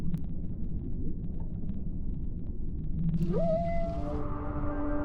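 A mother whale in a video game calls back to her calf with a deep rumbling moan that rises into a long, sliding tonal cry, loud and alone against low underwater rumble.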